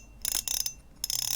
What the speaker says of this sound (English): That's the sound of that with my hand just turning the reel